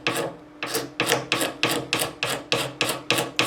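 A Stanley X-Acto blade scraping filler level on a 1983 Kramer Focus 3000 guitar body, about a dozen rhythmic rasping strokes in quick steady succession, close and crisp, with no talking.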